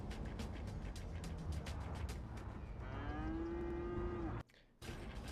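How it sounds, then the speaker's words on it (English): A cow moos once, long and drawn out, amid the steady ambient hum of a Cities: Skylines city scene, with no talking. "That was a cow."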